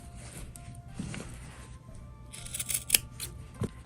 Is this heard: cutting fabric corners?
yes